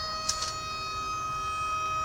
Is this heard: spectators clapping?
no